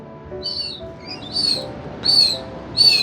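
High, thin bird calls chirp in short repeated bursts over a soft background hum, a few quick notes spaced about a second apart.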